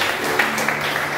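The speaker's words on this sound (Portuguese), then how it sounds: "Você pode aplaudir o Senhor Jesus." A church congregation applauds during a worship service, producing a brief, dense burst of clapping that stays steady and fairly loud throughout.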